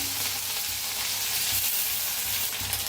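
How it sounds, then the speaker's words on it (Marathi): Garlic and green chili, pounded fine in a mortar, hit hot oil with cumin seeds and sizzle in a steady, close, dense crackle with no pauses or voices. "आता जिरं चांगलं तापलं या त्याच्यात टाकूया लसूण आणि हिरवी मिरची"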